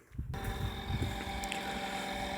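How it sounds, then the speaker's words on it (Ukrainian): A smoke exhaust fan on a home boiler switches on after a brief quiet moment, then runs with a steady, close whirring drone and a faint tonal whine. "Тяга реально увеличилася тому що демосос працює"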